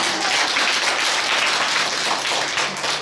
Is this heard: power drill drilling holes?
no